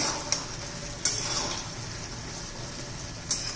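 Spring onion greens dropped into sizzling soybean chilli in a pan: a steady, close fry hiss with a few sharp stirring clatters, no voices.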